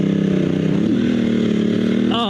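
Dual sport motorcycle on Continental TKC80 tires accelerating hard, a loud close steady engine drone rising in pitch with a quick upshift at the end.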